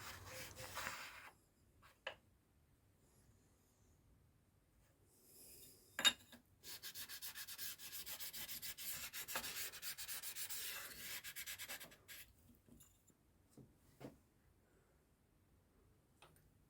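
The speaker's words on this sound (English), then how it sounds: "go over with the whetstone just to take down any high spots" A whetstone rubbed over the crankcase face of a Villiers 9D engine from a 1939 Excelsior Universal to take down high spots gives a quiet steady scraping rasp in drawn-out strokes. Faint ticks and pauses come in between, with no voices.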